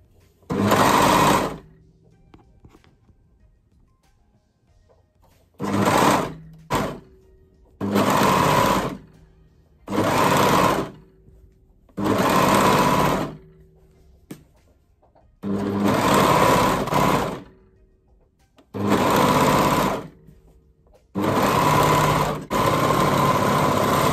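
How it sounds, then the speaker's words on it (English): An overlocker sergeing the neckline of a wrap dress runs in nine loud, steady bursts of a few seconds each, separated by short pauses and near silence, with no talking. "So here I'm overlocking the neck."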